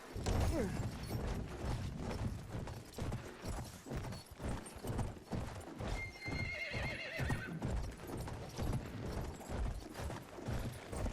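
A horse gallops in the video game Battlefield 1, with fast rhythmic hoofbeats under loud game noise and a brief neigh partway through. A voice shouts urging calls to the horse over the galloping.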